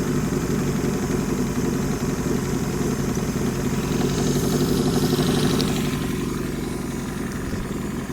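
A Toyota AE82 Corolla FX hatchback engine with a faulty fuel system idles steadily nearby, a low throbbing rumble with a faint rattle, running alone without voices.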